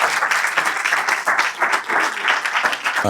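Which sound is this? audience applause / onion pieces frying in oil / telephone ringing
audience applause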